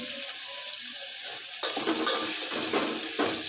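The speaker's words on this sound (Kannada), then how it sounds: "ಉಳ್ಳಾಗಡ್ಡಿ ಟೊಮೆಟೊ ಹಾಕೊಂಡ್ಬಿಟ್ಟು ಎಣ್ಣೆಯಾಗ ಟೊಮೆಟೊ ಕರಗ್ಬೇಕು ನೋಡಿರಿ" Onion and tomato fry in hot oil for a dal methi dish, a close crackling sizzle that turns busier and louder halfway through as the pan is stirred, with no talking.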